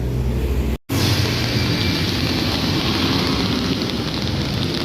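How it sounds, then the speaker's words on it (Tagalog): Steady rain hisses without pause on EDSA in Manila during road repaving works, a dense even wash of noise broken only by a brief cut near the start. "naka-experience tayo ng umuulan"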